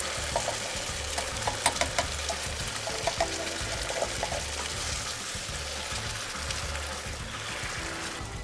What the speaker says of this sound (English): We're gonna open up our canned crushed tomatoes and just pour it in there.